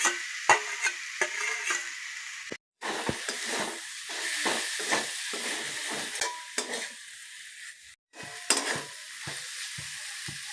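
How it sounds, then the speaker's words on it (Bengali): Boiled fish is stirred into a pan of frying onion, ginger, garlic and green chilli, with a loud, continuous sizzle broken by repeated scraping stirs and two brief pauses. "এবারে সেদ্ধ করা মাছটা দিয়ে দেবো"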